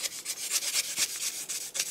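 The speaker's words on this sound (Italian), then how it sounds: "Lo avvolgo in questa maniera e vado a limare in modo che" A file rasps back and forth over aluminium earring wire wrapped around a small stick, smoothing the surface; quick, steady rubbing strokes repeat close up with no talking.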